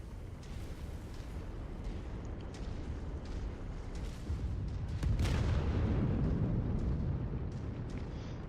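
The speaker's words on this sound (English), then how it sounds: "That ammo explosion got us" An ammo explosion in the MechWarrior 5 video game erupts as a dense, roaring blast that thickens sharply midway, with scattered crackling bursts over a heavy rumble of continuous game noise.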